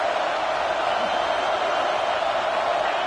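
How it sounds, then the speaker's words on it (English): A stadium crowd roars steadily in the Madden football video game as the defense lines up on third down, a dense, loud, continuous wall of cheering that holds level throughout. "Decibels rising as the crowd gets behind this defense on 3rd down"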